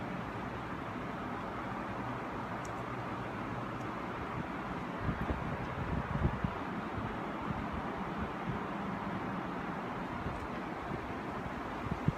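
Wind rumbles against the microphone outdoors, a steady low buffeting with occasional stronger gusts and faint distant noise.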